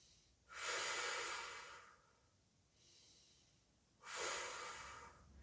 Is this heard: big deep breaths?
yes